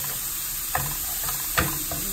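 Watercress and onion fry in a little oil in a pan, a steady close sizzle broken by two brief scraping stirs.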